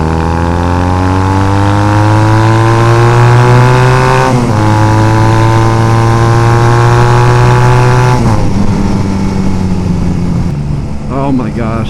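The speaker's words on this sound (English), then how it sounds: "On decel, it, like, pops and cracks, and I freaking love it." A Honda Rebel 250 bobber with a lean-running engine revs up and settles in smooth rising and falling exhaust tones, loud and close, with brief crackles as the throttle closes.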